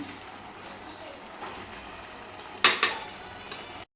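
A spoon scrapes and clinks against a pot while carrot halwa made with milk, sugar and cardamom powder is stirred, with a couple of sharp metallic knocks over a low, steady background hiss.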